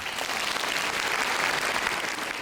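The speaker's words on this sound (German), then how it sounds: "Das Publikum hat begeistert geklatscht." A circus audience claps enthusiastically, a dense, even wash of applause that stays loud and unbroken throughout, with no voices rising above it.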